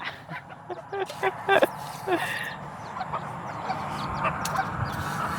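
Farm chickens cluck and squawk in a series of short, close calls early on, then fainter scattered clucks over a steady outdoor background.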